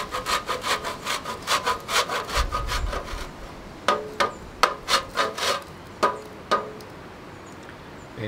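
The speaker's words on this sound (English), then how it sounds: "what does exist is wonderful raw pure cacao, which I'm just gonna grate a little bit" Raw pure cacao rubbed over a grater, a run of rhythmic rasping strokes up close, first in a quick series and then in slower, sharper scrapes.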